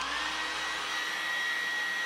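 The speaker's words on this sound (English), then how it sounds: "Using a hairdryer, heat the display surface for 1 or 2 minutes." A hair dryer blows with a steady, airy whir and a thin high whine, running continuously at close range while heating an iPhone XR display to loosen its glue.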